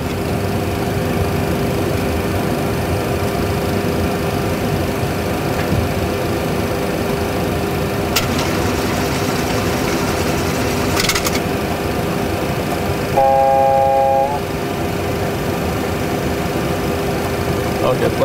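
Airliner engines drone in a steady, loud, continuous roar at full thrust during a go-around approach at Samos Airport, with cockpit voices talking over the noise.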